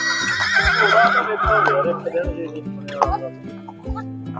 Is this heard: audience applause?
no